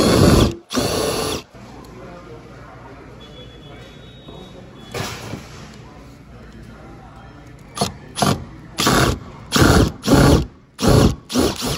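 A Makita power drill whirs loudly in short repeated bursts, starting and stopping in an uneven rhythm, with a quieter stretch in between where someone talks.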